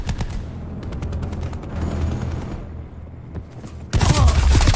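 Enemy gunfire in Call of Duty Black Ops 4 multiplayer, rapid bursts of automatic shots at mid distance that swell into a loud close volley at the end.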